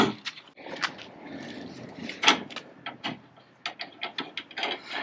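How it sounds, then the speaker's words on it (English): A ratchet clicks in short, rapid bursts while bolts are run up to fit an aftermarket steel bumper onto a pickup truck, with metallic clanks between passes, close and moderately loud. "So I'm just gonna bolt this up"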